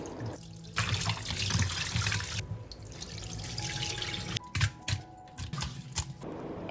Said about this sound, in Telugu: ఇలా మసాజ్ చేసిన తర్వాత వాటర్ ఆన్ చేసేసుకొని వాష్ చేసేసుకోవాలి